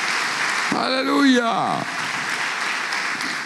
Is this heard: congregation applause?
yes